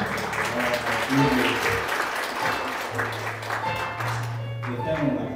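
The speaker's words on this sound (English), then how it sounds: "Can we give God a hand clap of" A congregation gives a hand clap of praise at a funeral service in a Baptist church, steady clapping that swells and fades, with voices and a sustained organ-like tone beneath.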